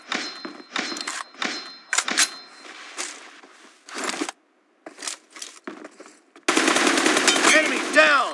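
Bursts of automatic gunfire from an M416 rifle in a PUBG Mobile 1v1 room match, rapid cracking volleys broken by short pauses, ending in a long sustained loud burst with faint game voice callouts.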